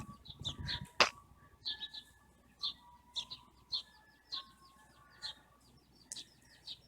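Birds gathered in a group tweet and call in quick overlapping bursts, with one sharp louder chirp early on, lively and near, with no voices.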